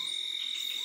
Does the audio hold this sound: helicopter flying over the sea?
no